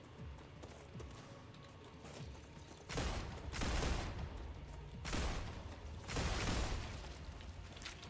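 Sci-fi pistol shots in StarRupture, four broad bursts of firing that each last about a second, spaced a second or two apart over a quieter background hum.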